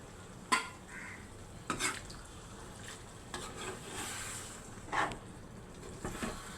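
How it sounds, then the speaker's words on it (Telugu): Tamarind juice poured into a curry simmering in a pan, followed by scattered stirring knocks and clinks of a spoon against the metal, faint and sparse in a quiet kitchen. "ఇప్పుడు పిసికి పెట్టుకున్న చింతపండు పులుపు వేస్తున్నాను"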